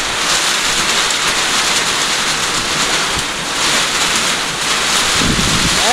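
Heavy rain lashes down with a gusting windstorm in Kailali, a dense, steady roar of downpour and buffeting wind noise on the microphone, continuous and loud throughout with no voices.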